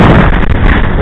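Strong gusting wind of around 15 to 25 knots on Lake Eildon buffets the microphone in a loud, continuous roar that fluctuates briefly near the end.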